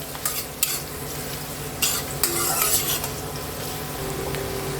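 Water spinach fries and is stirred in a pan, a steady close sizzle broken by scraping spatula strokes and a few sharp clinks against the metal, with no talking.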